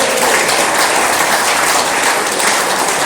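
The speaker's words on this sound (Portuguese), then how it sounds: "Aplauda o Senhor." A large church congregation applauds steadily, dense and loud clapping filling the space without pause, no voices standing out.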